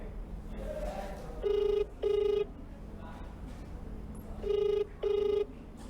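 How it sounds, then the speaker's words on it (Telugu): A phone ringback tone sounds in two pairs of steady beeps, quiet and electronic, with no one picking up between rings. "ఆయన ఆన్సర్ చేయట్లేదు, రింగ్ అవుతుంది."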